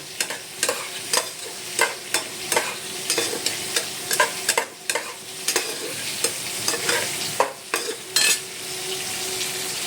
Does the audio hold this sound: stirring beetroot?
yes